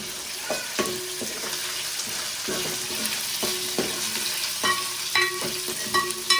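Pieces frying in hot oil until golden, like paneer, for a home lunch; a constant close sizzle broken by repeated sharp clinks and scrapes of a utensil against the pan at a steady pace.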